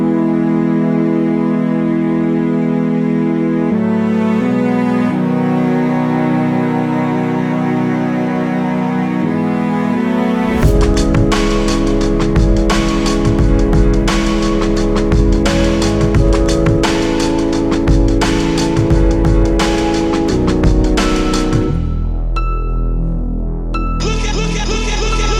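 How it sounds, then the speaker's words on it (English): Digital tuba and cello instruments playing sustained low notes in a recreation of a song, followed by a denser, busier stretch with more layered parts, heard without voices. "we're going to be adding a tuba and a cello."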